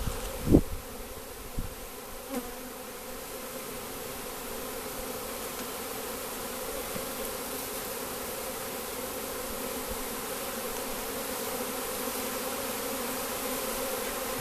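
A swarm of honeybees hanging on a tree limb fills the air with a steady, dense buzz that stays loud and continuous throughout, with a few brief nearer passes early on.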